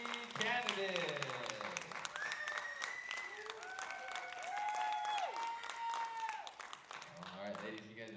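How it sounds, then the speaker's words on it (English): An audience at a pageant applauds three candidates, steady close clapping that runs the whole time under a host's voice and some sung or drawn-out vocal tones, thinning near the end. "Ladies and gentlemen, give it up for your three candidates."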